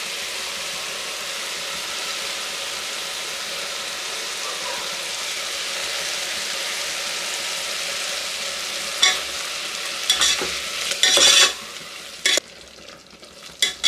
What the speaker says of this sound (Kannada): ಹಸಿ ವಾಸನೆ ಎಲ್ಲ ಹೋಗೋ ತನಕ ಇದನ್ನು ಈ ರೀತಿ ಹೀಗೆ ಫ್ರೈ ಮಾಡ್ಕೊಳ್ಳೋಣ.